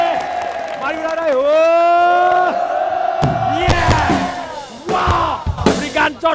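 Indonesian TV studio audience on a TVRI talk show bursting into loud cheering, whoops and shouted cries over sustained crowd noise, with a host's amplified voice calling out at the start.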